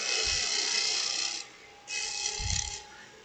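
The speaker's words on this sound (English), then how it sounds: "And now I'm just going to do some shear cuts with this really quick." Shear cuts on a wood snowman spinning on a woodturning lathe: a loud, close, hissing scrape runs for over a second, breaks off briefly, then resumes over a low motor hum.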